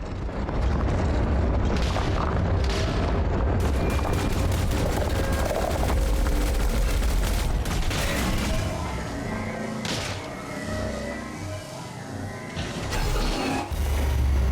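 Repeated shots from a personal handheld weapon in Elite Dangerous: Odyssey, fired at a Guardian vessel, come as a steady rapid series of sharp, loud impacts with booming low-end thuds, continuing throughout with occasional brief gaps.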